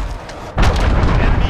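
An enemy cruise missile strike in Call of Duty: Modern Warfare on Xbox lands as a sudden loud, deep boom that roars on as a sustained rumble after a quieter stretch of game noise.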